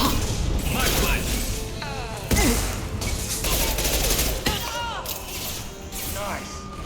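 Impact shot and gunfire in the video game Mass Effect 2: a dense battle of rapid shots, mechanical clatter and crashing impacts, with a sharp heavy blast near the middle, shouted voices mixed in.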